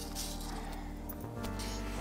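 Keys jangle in a day-in-the-life setting, a soft, continuous metallic clinking with a few brighter chinks, fairly close and quiet.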